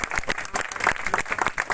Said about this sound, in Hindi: इसके लिए ताली बजाकर उनका स्वागत करें।